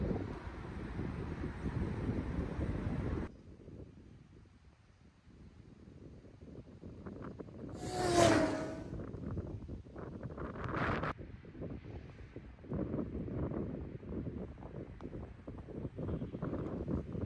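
Strong gusting wind buffets the microphone on a golf course, loud roaring rumble that drops briefly then surges back, with a short whoosh in the middle and no talking.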